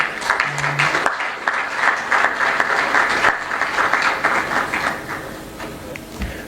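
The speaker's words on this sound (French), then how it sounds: "je vous demande d'accueillir avec vos applaudissements" An audience at an ECOWAS 50th anniversary gathering claps to welcome a speaker, producing dense, steady applause for over six seconds that fades slightly toward the end.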